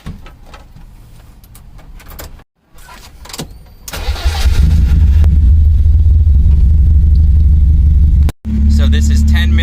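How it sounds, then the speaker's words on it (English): A BMW 318i E30 with a suspected head gasket fault is started: a brief crank and a short cutout, then the engine catches and runs at a loud, steady, close idle, with a slight drop near the end. "So let me go ahead, start the engine."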